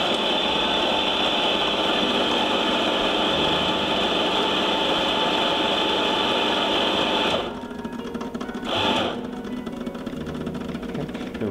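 An espresso coffee grinder whirs steadily for several seconds, then cuts off and gives a brief final burst before falling quiet.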